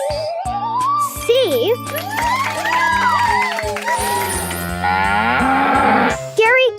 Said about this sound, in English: Scary cow.